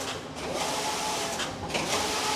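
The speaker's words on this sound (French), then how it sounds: "Et de ce programme, on va tricoter à l'aide du chariot." The carriage of a flat knitting machine in a sweater factory runs across a sweater panel, making a continuous, loud, close mechanical whirring and clattering with small surges and no voices.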